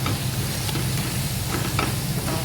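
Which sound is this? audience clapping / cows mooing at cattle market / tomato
tomato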